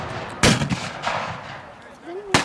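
Military reenactors fire guns at Military Odyssey in England, two sharp loud shots cracking about two seconds apart, with a faint voice and outdoor background between them.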